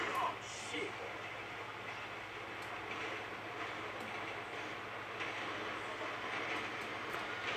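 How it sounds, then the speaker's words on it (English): A train passes by in the distance, giving a faint, steady rumble with light rail clatter that continues evenly, while people talk nearby. "Train's coming, guys."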